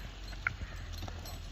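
A horse being ridden clip-clops with faint, soft hoof strikes, scattered irregularly over a steady low background rumble.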